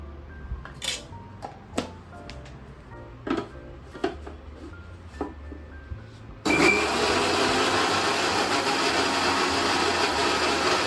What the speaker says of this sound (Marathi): पालकची प्युरी बनवण्यासाठी आपण हा जो पालक आपण थंड पाण्यात ठेवलाय तर तो आपण मिक्सरमधून काढून घेऊ